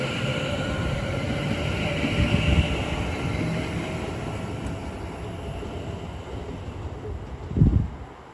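Locomotive 73203 moving through Milton Keynes Central station, a steady rumble of the train rolling past with wind noise and a louder thump late on.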